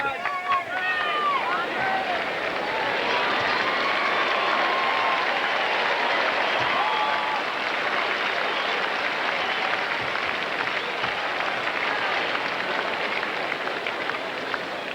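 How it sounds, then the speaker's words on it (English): Tennis crowd at the 1994 US Open men's semifinal applauding, a broad, steady wash of clapping and cheering from a large stadium audience that fills the whole stretch, with a few whistles early on. "Let's listen to the crowd."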